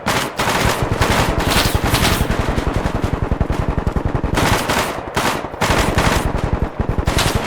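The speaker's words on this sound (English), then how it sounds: "Bravo, let them guns sing, baby. Bravo, keep firing through this bit." Sustained automatic machine gun fire in the shooter game BELLUM, rapid regular bursts with only brief gaps, loud and close with no voices.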